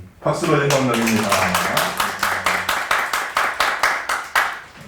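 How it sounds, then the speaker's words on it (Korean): Congregation clapping together in a church service, a steady run of roughly a dozen evenly spaced claps that follows a sustained sung or spoken tone, close and fairly loud. "박수로 영광 돌립니다."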